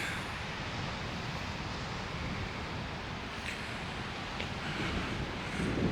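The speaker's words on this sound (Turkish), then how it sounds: "Burada da rüzgar çok güzel." Steady wind on Taşdibi beach rushes across the microphone in a constant broadband roar, with faint surf-like swells underneath and no voices.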